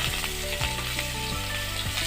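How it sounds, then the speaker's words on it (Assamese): Chopped onions and chillies fry in a pan with a bright, steady sizzle and crackle, close and continuous, with no speech. "মই ইয়াত কাটি থোৱা পিঁয়াজখিনি দিম"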